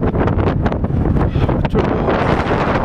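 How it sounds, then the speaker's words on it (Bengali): Blizzard wind blowing snow in Kibber, a loud, continuous roar buffeting the microphone with constant gusting turbulence. "ব্লিজার্ড চলছে এখানে"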